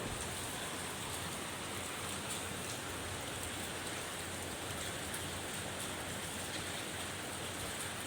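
Heavy monsoon rain pours down in Ernakulam, Kerala, a dense, constant hiss of drops on surfaces that stays loud and even throughout, with no voices.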